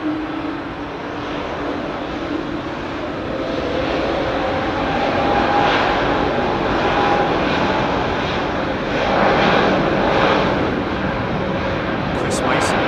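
An aircraft moves at London Heathrow Airport, a steady engine roar that swells and holds at moderate loudness, with a voice talking over it.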